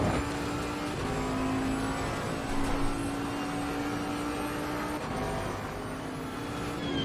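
Bentley GT3 race car in Assetto Corsa Competizione at Monza, its engine droning steadily at high revs through Ascari with a sustained loud tone, while other GT3 cars are faintly audible nearby.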